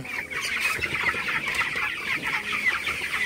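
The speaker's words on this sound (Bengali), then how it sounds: "আমার এই সেটের ব্রয়লার মুরগির বয়স 24 দিন" Broiler chickens, 24 days old, cluck continuously in a farm shed on a hot night, a dense, steady murmur of many birds heard at close range.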